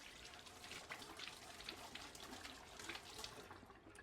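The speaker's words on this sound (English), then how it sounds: "I'm just going to wash my hands." Running tap water flows steadily into a kitchen sink while hands are washed, a continuous close splashing hiss with small irregular spatters throughout.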